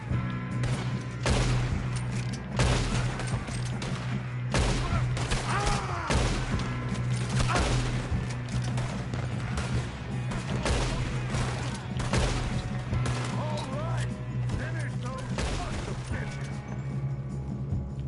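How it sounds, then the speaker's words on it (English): Gunfire in Red Dead Redemption 2 during a shootout: rapid, dense volleys of shots crack over and over for the whole stretch, loud and close, with a steady low hum of game ambience underneath. "Good shooting, kid."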